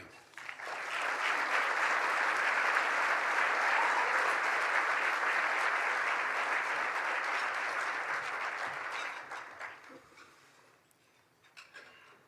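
A large audience applauds to welcome Dick Steinke to the podium at the 2013 State of the Port program, sustained dense clapping that holds steady for about nine seconds and then tapers into scattered claps.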